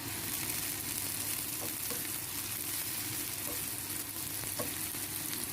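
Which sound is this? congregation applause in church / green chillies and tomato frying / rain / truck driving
green chillies and tomato frying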